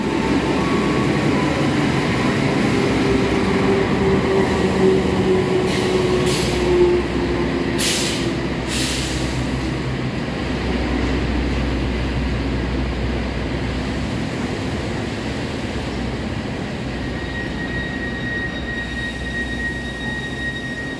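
The Lodaya passenger train pulls out of Kutoarjo station bound for Bandung, with a steady low rumble of rolling carriages, a few sharp hissing bursts from the brakes and faint high squeals.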